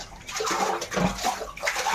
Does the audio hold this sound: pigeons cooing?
no